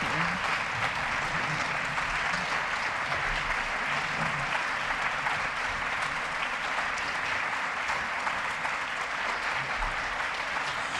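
Sustained applause from an audience honouring Holocaust survivor Dr. Irene Butter, a dense, even roar of many hands clapping throughout without pause.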